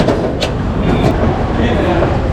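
Loud, steady rumble of a train at Bir-Hakeim station in Paris, with rail clatter and a couple of brief high squeals over the din.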